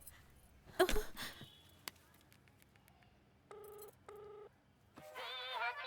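A phone rings with two short electronic tone bursts, followed by a warbling ringtone; a few clattering noises come before it.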